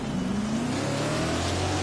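A sprint car engine in the World of Outlaws 2024 racing game revs hard off the start of a race, its pitch climbing steadily as the car accelerates, loud and continuous with no talking.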